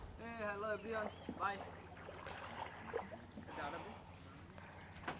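A boat being rowed away along a canal in the Sundarbans, with soft water and paddle sounds running under steady nearby talking.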